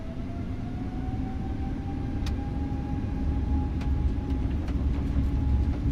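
Airbus A320neo jet engines spooling up for takeoff in Microsoft Flight Simulator, a steady loud roar with a slowly rising whine and occasional clicks, no talking.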